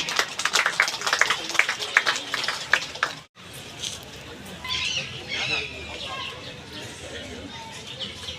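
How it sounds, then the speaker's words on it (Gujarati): An audience at a police ceremony in Ahmedabad bursts into applause, brisk dense clapping for a few seconds that cuts off abruptly, followed by a quieter hall with scattered murmurs. "જોરદાર તાળીઓ એમના માટે"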